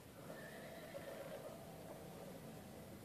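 A horse in the Red Dead Redemption 2 video game lets out a whinny near a camp, a single drawn-out neigh with faint hoof clip-clop, over a steady game ambience with no talking.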